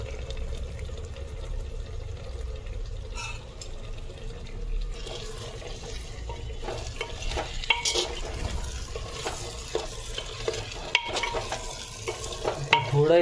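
Unpeeled garlic cloves fry in a pot for matka chicken, a steady sizzle under repeated clinking and scraping stirs that grow busier toward the end, without speech.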